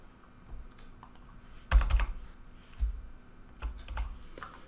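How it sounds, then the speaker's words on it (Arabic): Typing a command on a computer keyboard while setting up a network simulator, with a few sharp bursts of keystrokes separated by brief pauses, close and fairly clear, with no talking. "يجب أن نكتب الأمر التالي"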